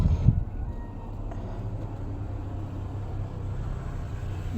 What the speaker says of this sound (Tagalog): Daming sasakyan na dumaan ngayon mga palangga.